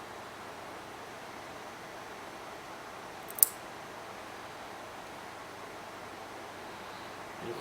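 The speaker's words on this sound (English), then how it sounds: "Now we cut the excess 3 wires." One short, crisp snip of cutters trimming three excess wires on a ceramic atomizer mod, brief and close, standing alone against a quiet hiss of room noise.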